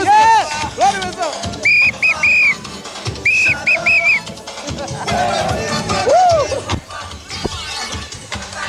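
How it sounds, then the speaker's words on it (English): Whistles blown in short repeated bursts ring out among a Trinidad carnival crowd, some shrill double and triple blasts close by, mixed with shouting voices and the shuffle of people moving. "Blow the whistle, blow the whistle."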